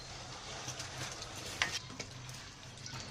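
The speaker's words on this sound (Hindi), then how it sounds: "अब इसमें हम ये सिरका ऐड कर रहे हैं।" Vinegar poured into a pan of mixed vegetable pickle brings a low steady sizzle with light stirring scrapes and a small clink near the middle, quiet and close, no voices.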